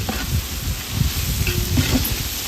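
About four kilograms of onions fry in a large pot for a wedding-style rice dish, a close sizzling hiss mixed with low scraping and stirring sounds that rise and fall steadily, with no talking.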